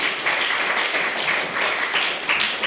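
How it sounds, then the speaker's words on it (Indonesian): Audience applause for Kayla at a student discussion session in a classroom, a dense patter of many hands clapping close by, steady and lively for a few seconds without talk. "Aplaus buat Kayla"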